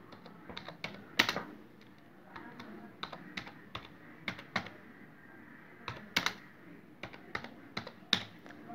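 Fingers type on a computer keyboard to fill in an institute form, producing a steady run of light, close key taps with occasional louder presses and no talking.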